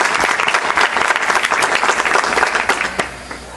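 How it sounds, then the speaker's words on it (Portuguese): A church congregation at an evening worship service breaks into loud, sustained applause. Dense clapping fills the room and then tapers off toward the end. "dê um aplauso ao Senhor nessa noite em nome de Jesus"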